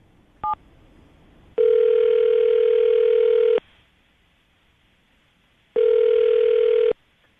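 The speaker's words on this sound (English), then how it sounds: "I'm going to dial the phone number right now" A phone handset beeps briefly, then two long steady tones sound with a pause between them, clear and close in a quiet room.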